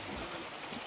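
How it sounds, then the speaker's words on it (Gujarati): A forest stream in Polo Forest near Vijaynagar, among lush greenery, gives a soft, steady rush of flowing water over a brief moment without talk. "જો એકદમ ગ્રીનરી ના મસ્ત ઝરણું છે"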